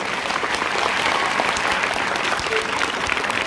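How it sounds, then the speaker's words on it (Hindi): Children clap loudly after a sarangi performance at an Indian classical music event, a thick sustained burst of many small hands applauding at close range without letup. "बच्चों जोरदार तालियां"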